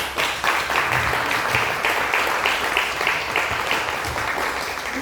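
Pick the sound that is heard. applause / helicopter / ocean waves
applause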